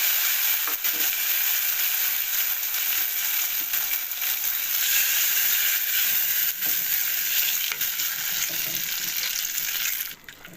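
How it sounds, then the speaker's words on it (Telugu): Tempering (popu) sizzles loudly as it is poured into cooked moong dal with ridge gourd, a dense crackling hiss that carries steadily and then cuts off near the end. "పప్పులో పోపు వేసుకుందాం"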